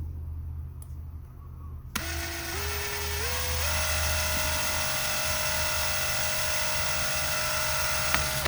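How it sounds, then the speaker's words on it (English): A small high-pitched drill with a tiny bit whines steadily while drilling a 1:25 scale plastic model car, its pitch stepping upward as it spins up, then holding a constant tone under a low background hum. "And go ahead and drill"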